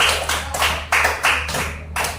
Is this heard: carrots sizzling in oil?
no